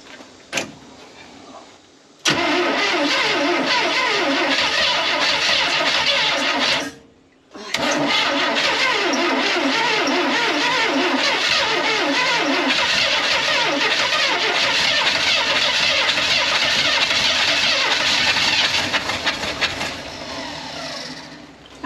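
An old truck's engine cranks and catches with a loud, rough roar, cuts out briefly, then restarts and runs steadily for a long stretch, close and loud.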